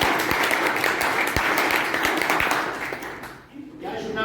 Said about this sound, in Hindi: एक बार जोरदार ताली हमारे भैया के लिए